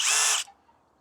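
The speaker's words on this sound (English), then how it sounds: "So I've got an Erbauer combi drill." An Erbauer combi drill whirs at full speed for under half a second, loud and close, then stops abruptly, leaving near silence.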